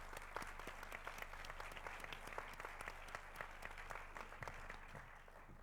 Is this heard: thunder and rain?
no